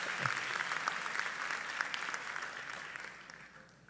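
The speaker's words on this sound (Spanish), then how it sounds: "Un aplauso para mi amigo." An audience applauds for an illustrator at a Tijuana Innovadora 2012 talk, with steady, dense clapping from a crowd that holds for about four seconds and fades slightly at the end.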